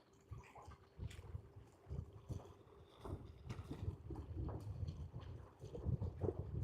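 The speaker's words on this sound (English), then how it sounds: "Just motoring around a lake?" A motorboat cruises around a lake, giving a low rumbling churn of engine and water with buffeting wind noise on the microphone, moderately close and with no talking.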